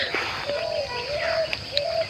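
Birds call on a village morning in Gazipur among rice fields, with a dove's soft repeated cooing notes and scattered chirps, fairly quiet over a gentle outdoor hush.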